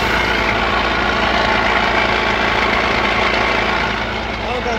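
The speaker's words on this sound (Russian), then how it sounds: "Вот так вот барабанит коробка." MAN truck idling with the clutch released while its ZF 16S181 gearbox rattles, a loud continuous mechanical drone with a rough, drumming vibration, heard close up.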